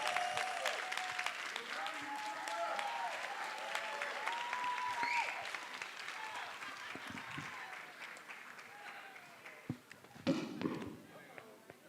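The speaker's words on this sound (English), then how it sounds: "One more round of applause for Mr. Promise Soto." An audience applauds after a young man's speech at a preshow event, steady clapping filling the room with scattered voices mixed in and a louder burst near the end.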